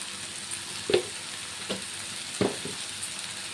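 A spoon stirs chili powder into a vegetable curry in a pan, soft scraping strokes and a few quiet clinks over a faint steady sizzle, close and without talking.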